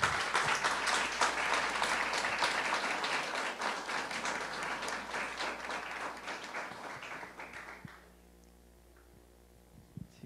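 A large audience at a scientific talk applauds steadily and loudly for about eight seconds, honouring a yellow fever diagnostic kit developed over ten years of research, then the clapping stops abruptly, leaving a faint room hum.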